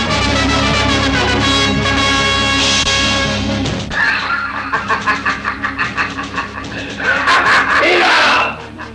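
Several people scream and yell loudly in a dramatic Punjabi film scene, sustained overlapping cries over heavy background noise that break into rapid rhythmic shouts before cutting off near the end.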